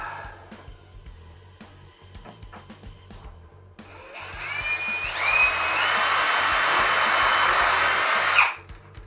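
Drilling pilot holes for a gecko rack with a power drill, starting with a few short taps and knocks, then a loud, rising whine that runs steadily for several seconds before cutting off abruptly.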